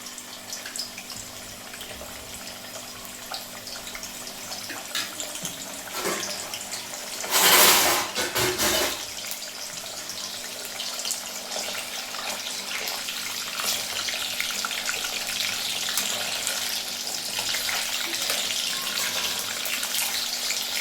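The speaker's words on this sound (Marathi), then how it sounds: "आता मी एक एक पनीरचे काप टाकते ह्याच्यामध्ये तेलामध्ये" Paneer slices dropped one by one into hot oil produce a continuous hissing sizzle, swelling into a louder, frothy burst partway through before settling back to a steady fry.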